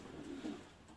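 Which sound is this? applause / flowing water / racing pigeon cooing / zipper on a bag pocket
racing pigeon cooing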